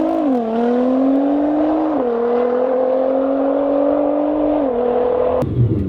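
A Nissan GT-R with all-wheel drive launches hard on launch control, a loud, close engine note holding steady and stepping through gear shifts for several seconds before cutting off abruptly.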